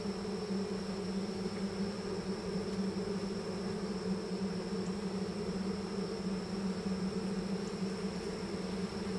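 Honey bees swarm over an open frame of a horizontal hive, a steady dense buzzing hum that stays close and even throughout with no pauses and no talking.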